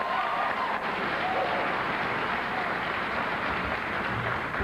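A debate audience at the 1994 Massachusetts Senate debate between Mitt Romney and Ted Kennedy bursts into sustained applause, dense steady clapping filling the hall with faint voices beneath.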